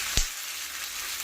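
Chopped tomato frying in hot oil for chicken curry gives a steady soft sizzle, opened by a single sharp clatter near the start, with no talk.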